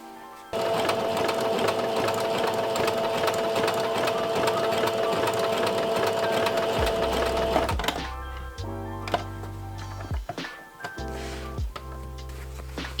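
Sewing machine stitching elastic with the normal foot, running in a long steady whirring burst, then stopping and starting in shorter bursts, close and alone.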